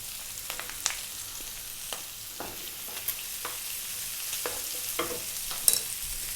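Onion and garlic sizzle in a pan with bacon, a steady hiss of frying punctuated by occasional soft pops and stirring clicks, close and moderately quiet with no voices.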